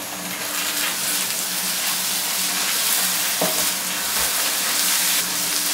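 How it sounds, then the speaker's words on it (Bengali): Ginger and garlic paste fries with onions in a pan for a duck curry, a close, continuous sizzle with spoon scrapes and one brief clatter partway through. "আদা ও রসুনের কাঁচা গন্ধটা চলে যাওয়া পর্যন্ত এগুলোকে একটু ভেজে নিলাম"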